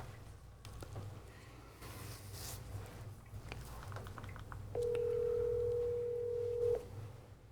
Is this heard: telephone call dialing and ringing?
yes